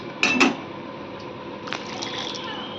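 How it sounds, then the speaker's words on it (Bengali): Water splashes into a pot of muri ghonto during cooking, a short loud pour at the start followed by quieter bubbling and faint stirring close by. "জলটা দিয়ে দিলাম, আর একটু নাড়া দিয়ে দেবো।"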